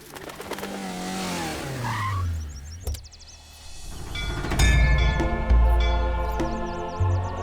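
A car slows and skids to a halt with a tire squeal and low engine rumble, fairly loud and close, followed by a rising rumbling noise; no speech.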